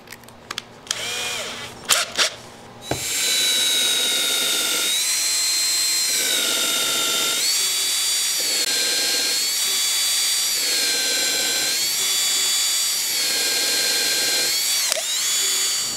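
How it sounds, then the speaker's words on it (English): A power drill countersinks screw holes in babinga wood, its motor whining loudly in repeated steady bursts with short dips between, preceded by a few clatters and handling noises. "You want to make sure the countersinks are deep enough that the head of the screws sit below the surface."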